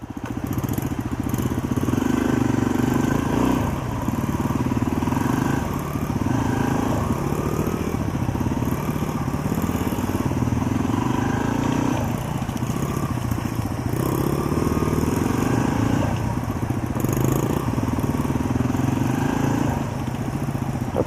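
A learner rides a motorcycle in Fairbanks, Alaska, its engine droning steadily at mid pitch for a long stretch, close by, with small rises and dips in revs and no talk.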